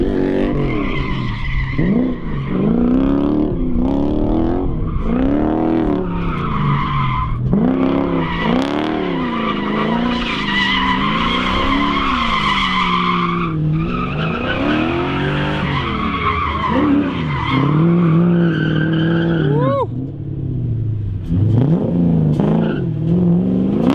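A V8 drift truck skids hard with one wheel peeling, its tire squeal wailing and sweeping in pitch over a revving engine, loud and continuous for the whole stretch.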